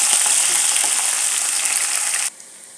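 Onions and curry leaves sauté in a pan, giving off a loud, continuous crackling sizzle up close that cuts off abruptly near the end, leaving only a faint hiss.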